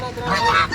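White farm ducks honk and call close by in a short, loud burst of overlapping cries, with a faint voice in the background.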